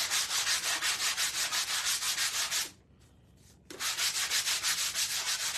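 Steady, loud rubbing of sandpaper on a wooden chair part, with rhythmic back-and-forth strokes that stop briefly for about a second before resuming at the same pace, close up.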